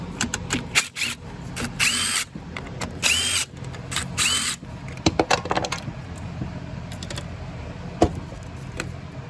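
Power tool whirring in short bursts on a Briggs & Stratton 300E lawn mower engine while the carburetor comes off, with metallic clicks and clatter between runs, close and loud.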